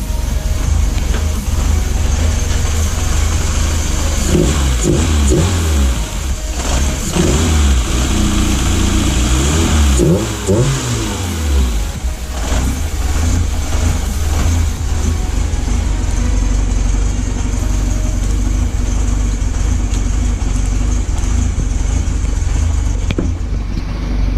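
A car engine restarts and runs loud and close, with rising and falling revs over a steady rumble that continues without pause. The car has a possible fuse fault.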